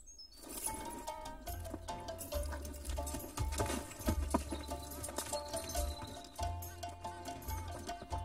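A horse with a rider sets off at a gallop, hooves clattering in a fast, uneven rhythm that stays close and loud, with dramatic music underneath.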